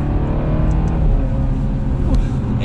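A 2021 Alfa Romeo Giulia Sprint pulls hard onto a highway, its engine droning loud and steady from inside the cabin with a low rumble and rising pitch, with brief speech heard over it.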